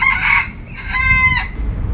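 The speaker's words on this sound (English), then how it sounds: "Cock-a-doodle-doo." A rooster crows loudly and close by in one full drawn-out cock-a-doodle-doo over about two seconds, with no talk.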